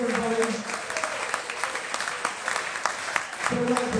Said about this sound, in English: Big round of applause for all of you tonight.